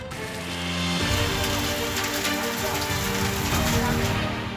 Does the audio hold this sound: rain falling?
yes